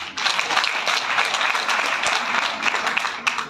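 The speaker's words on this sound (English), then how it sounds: "we must clap hands of these comrades" A crowd at an ANC Youth League gathering in Mpumalanga claps and applauds, continuous dense clapping that fills the hall and keeps going with small swells and dips.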